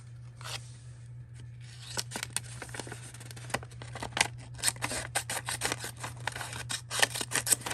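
Scissors snip through paper close by, a run of quick crisp cuts speeding into a rapid irregular series of snips, with no one talking.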